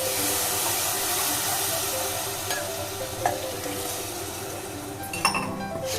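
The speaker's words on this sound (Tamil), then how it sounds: "இது ஒரு கொதி வரட்டும்." Rice and water for a one-pot Tamil Nadu style vegetable brinji come to a boil in a pot, giving a steady close hiss and bubbling with occasional faint clinks of a utensil against the vessel.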